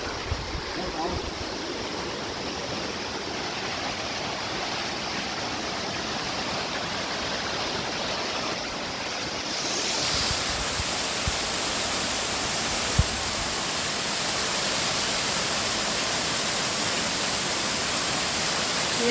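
Kings Canyon waterfall rushing, a dense, steady roar of falling water that fills the whole clip and grows slightly louder midway, with faint voices beneath it.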